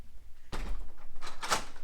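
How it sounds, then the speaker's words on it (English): An interior door in a former show home being pushed shut, a single firm thud with a short rattle, followed by quieter handling noise close by. "let me just close this door"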